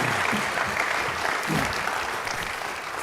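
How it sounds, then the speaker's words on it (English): A school board candidate forum audience gives the candidates a round of applause, a dense, steady clapping from a roomful of people that tapers slightly toward the end. "If you would, folks, please give all the candidates a round of applause."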